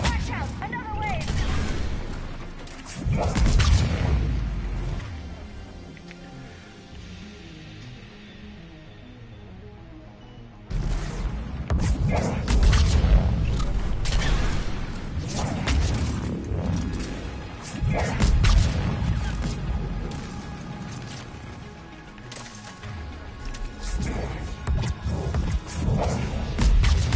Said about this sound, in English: I love those explosions.